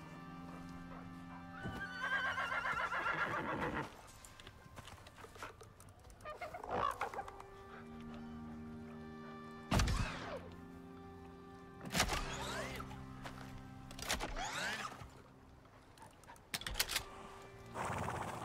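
Horses in the survival video game Icarus neigh and whinny in several loud, separate calls, mixed with hoof clip-clop and some fowl clucking over a steady low game hum.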